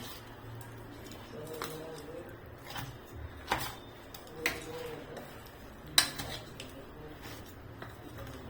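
A spoon stirs a raw mango pickle mixture with cooled oil, giving a few sharp, close clinks and scrapes against the bowl at irregular intervals over a quiet background.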